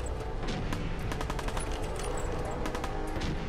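Rapid gunfire in the video game Fallout 4, a dense burst of repeated shots running under a busy game soundscape.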